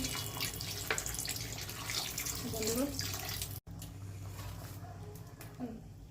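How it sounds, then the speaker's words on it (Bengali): Water pours into a cooking pot during curry preparation with methi, a steady close rushing splash running almost continuously with a brief break midway. "এবার এর মধ্যে আমি দিয়ে দিব জল, অল্প দিব"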